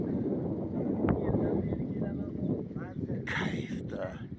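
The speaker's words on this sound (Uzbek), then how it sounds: "Mana qarang, shamolni qarang." Wind gusts outdoors in spring, a broad, rough rushing that buffets the microphone and swells and eases throughout, with a few brief, fainter sounds breaking through near the end.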